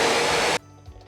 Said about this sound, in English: Let's give this a good blend. I like using my Ninja blender for this